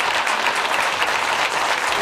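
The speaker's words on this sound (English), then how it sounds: "Kingborough get a well-deserved round of applause here from their faithful" A home crowd of supporters claps steadily for the Kingborough women's football team at the 2018 Women's Statewide Cup Final, a dense, even patter of many hands with no pauses.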